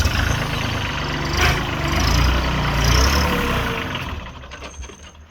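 A Branson 2500 tractor's diesel engine rumbles steadily at close range as it drives away, the low throbbing and mechanical clatter holding for a few seconds before receding and growing fainter at the end.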